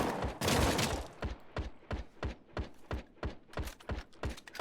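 Enemy gunners firing in the video game The Front, a rapid series of about a dozen sharp, punchy gunshots in an irregular rhythm, loud and close, after an opening burst of noise.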